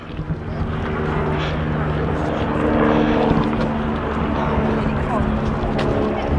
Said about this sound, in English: Oh, the helicopter's coming to take me off the mountain.